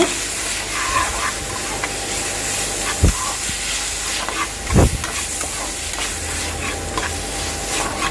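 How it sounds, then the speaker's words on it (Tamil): Tomatoes and onions sautéing in a pan for Chettinad crab masala give off a dense, continuous sizzle and steamy hiss, close and loud, with a couple of sharp utensil knocks against the pan. "அந்த ரெண்டு தக்காளி பழத்தையும் சேர்த்து நல்லா வதக்கி விடுங்க"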